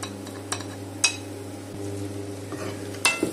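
Ground spices with garam masala and Kashmiri red chilli powder fry in a pan for chicken changezi, a soft steady sizzle with a spoon clinking against the pan a few times.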